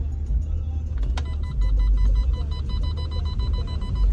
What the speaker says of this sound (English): Parking sensors are going absolutely crazy.